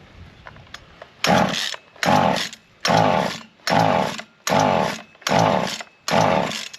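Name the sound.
small engine starting up and running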